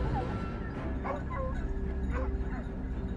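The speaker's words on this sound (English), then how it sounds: "the barking of the hounds echoed from within the bushes" Hounds yip and bark in short bursts from within bushes a little distance away, over a steady background rumble.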